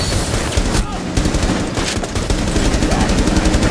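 Continuous loud automatic gunfire from the video game Rainbow Six Siege, dense rapid shots and bursts filling the whole stretch with scarcely a gap.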